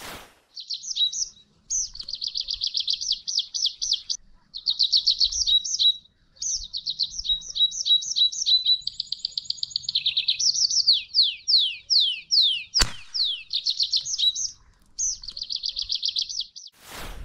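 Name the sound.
small bird chirping near a hawthorn tree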